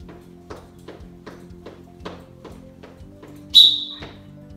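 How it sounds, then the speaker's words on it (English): A coach's whistle sounds once, a single loud shrill blast near the end during a children's foot-skills warm-up drill, over a steady run of rhythmic soft taps from jogging in place. "When I blow the whistle one time, we're going to put our hands on our head."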